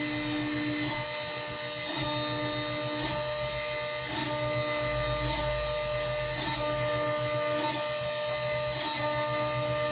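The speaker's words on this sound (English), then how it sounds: "now I'll go to the eighth inch end mill" CNC router with an eighth-inch end mill carving a multilayer epoxy inlay, a loud continuous high-pitched spindle whine with a steady cutting rumble and a slight rhythmic pulse, no talking.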